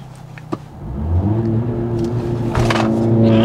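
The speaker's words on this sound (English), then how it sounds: "So now let's accelerate from zero and find out how fast this car really is accelerating." A Mercedes CLA45S AMG launching hard from a standstill: a brief click, then the engine roars up with rising revs, a short dip at a gear change, and keeps pulling loud and close.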